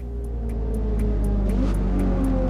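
A car slows and pulls off onto the roadside in the racing game Forza Motorsport, its engine a steady low drone with rising harmonics, accompanied by faint rhythmic ticking, loud and continuous without speech.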